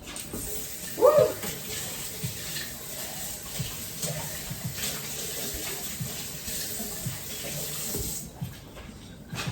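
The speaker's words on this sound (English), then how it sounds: "We're gonna rinse this and move on to the next one." Water runs steadily from a kitchen tap while chopped onions are rinsed, a continuous close hiss with a brief splashy burst near the start, then cutting off near the end.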